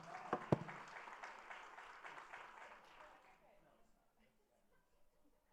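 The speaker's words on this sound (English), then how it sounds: "let's give Jana a round of applause" Brief round of applause from an audience at a regular public meeting, clapping starting together and fading out over a few seconds, fairly quiet and somewhat distant.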